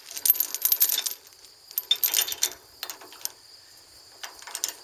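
Metal trailer safety chains on a hitch coupler being shifted aside, with bursts of light jingling and clinking links in several short clusters, close and fairly loud, with no talk.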